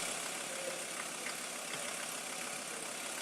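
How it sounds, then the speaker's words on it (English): A workshop engine running steadily with a continuous mid-range drone and no sharp changes, fairly close and alone with no talk. "you can hear the engine note changing"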